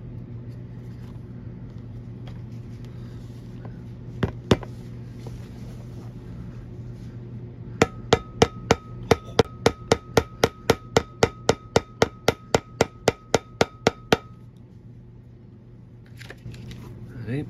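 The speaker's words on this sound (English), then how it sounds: "I didn't want to pound it in all the way, test fit it all the way before I glued it" A hammer pounds a heel onto a Florsheim Royal Imperial shoe during a home resoling, a few early taps and then a long run of evenly spaced sharp knocks, close and fairly loud.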